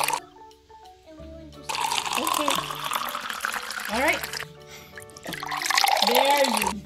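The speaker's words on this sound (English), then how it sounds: "first, we will put water" Water is poured into a plastic beaker from a children's science kit, a trickling and splashing fill in two bursts, with people talking briefly between them.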